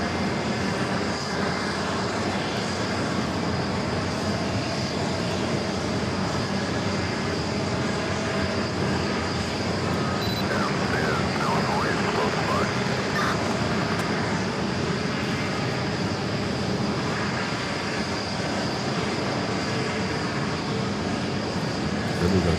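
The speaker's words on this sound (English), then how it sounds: "we got that Delta 757 up next for takeoff on 4 left" A 25-year-old Delta Boeing 757 bound for Atlanta takes off from runway 4 Left at JFK, its engines a loud, continuous, rumbling roar that stays strong and steady throughout, with no talk over it.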